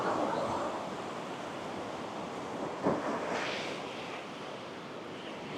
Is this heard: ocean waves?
yes